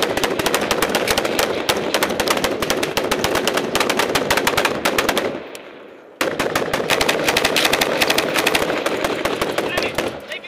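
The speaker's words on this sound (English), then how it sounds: "They fucking shot." Sustained automatic gunfire rattles through an Afghanistan firefight, dense rapid bursts running nearly continuously with one brief break, loud and close; speech is partly audible beneath it.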